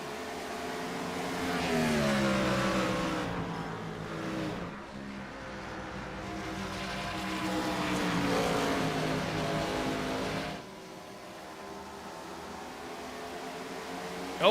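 IROC race cars in a sim racing video game lap Rockingham, their engines howling in long rising and falling revs as the cars accelerate, shift and sweep past, loud and continuous with no talk.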